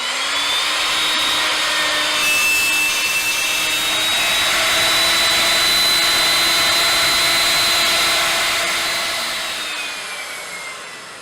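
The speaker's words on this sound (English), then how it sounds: "the router is set to cut a 6mm deep rebate" A router cuts a 6mm deep rebate in a panel, guided by a jig clamped to a batten on a workbench. The loud, steady high-pitched whine runs throughout, then slowly winds down near the end.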